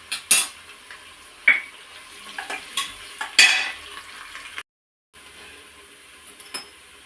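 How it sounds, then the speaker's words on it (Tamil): Onions with curry leaves sautéing in a pan for attukal kuzhambu, a spoon scraping and stirring in several sharp bursts over a faint frying hiss, with a brief cut to silence midway. "வெங்காயம் நல்லா வதங்கியாச்சு."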